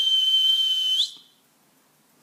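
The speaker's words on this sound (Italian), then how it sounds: "Quando fischio lui corre." A person whistles one long, loud, steady note to call a small dog, sliding upward at the end before cutting off, leaving near silence with a faint click at the close.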